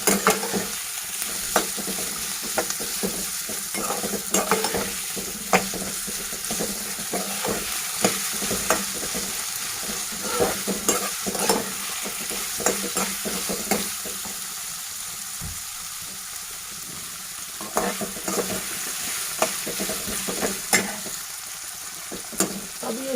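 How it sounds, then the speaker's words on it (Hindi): Capsicum and onion light-frying on a slow flame for veg Manchurian, with a low, steady sizzle and frequent spoon scrapes and taps against the pan, close and unhurried, with no talking. "फिर इसके बाद हम शिमला मिर्च और प्याज इसमें डालेंगे। और इसका फ्लेम मैंने स्लो पे रखा है। स्लोली हम इसको लाइट फ्राई करेंगे।"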